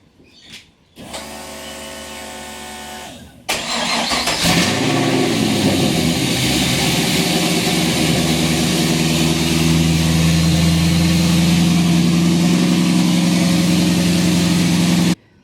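Nissan S13 with a swapped LS1 V8 cranking briefly, then catching and settling into a loud, steady, rumbling idle that runs on close by until the clip ends.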